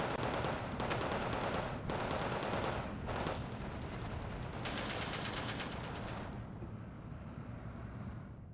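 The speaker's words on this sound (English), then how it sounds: "Here I've got my snipers and infantry being damaged by these heavy machine guns." Heavy machine guns in Steel Division 2 hammer away in long sustained bursts, dense and loud, with overlapping distant gunfire and rumbling battle noise that thins out toward the end.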